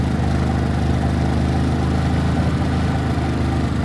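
Harbor Freight Predator gasoline generator running steadily after a cold start at 6 degrees, a loud close continuous engine drone with a low throbbing hum and no talk.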